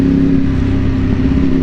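A Ducati motorcycle engine revs close by, a loud, steady, throbbing drone with a fixed tone and no voices.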